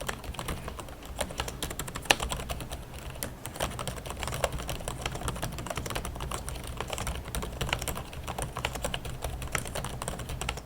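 Steady typing on the keyboard of an Acer Predator Helios Neo 16 gaming laptop, with dense, even keystroke clicks running continuously throughout, close and alone with no talk.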